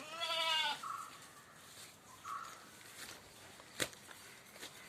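A meaty, well-fleshed goat bleats loudly and close at the start, followed by a couple of shorter, fainter calls and a sharp knock, with quiet farm background.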